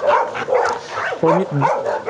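A small, affectionate dog gives short high yips and whimpering whines in brief bursts, close by, while a person talks over and between the sounds.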